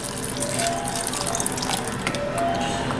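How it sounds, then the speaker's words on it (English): Water pours steadily into a pot of peas from a tap or container, a continuous splashing, gurgling flow, close and loud, with no talking. "Just on top of them peas, maybe just a little bit more water."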